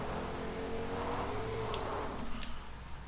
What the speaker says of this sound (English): Okay, let's get in the car and let's drive.